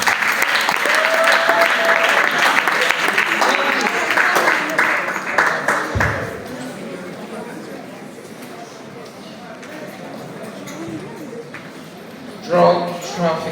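Audience applause at a talk fills the first six seconds, loud and dense, then fades into quieter room murmur while a voice speaks over it.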